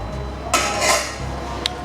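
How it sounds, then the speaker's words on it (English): A utensil stirs pumpkin leaves into a pot of Ofe Akwu, making a few sharp metallic clinks and scrapes against the pot, close by and moderately loud, with a light tap near the end. "So I'm stirring now"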